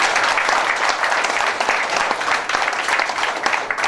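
An audience at a product training event in Odisha breaks into loud, sustained applause, dense clapping filling the room for the whole stretch without pause.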